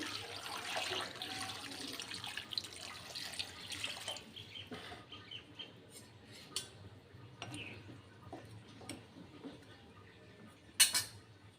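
Water pours into a cooking pot for beef with jackfruit, a soft, faint splashing rush in the first few seconds, then light clinks of utensils and pot.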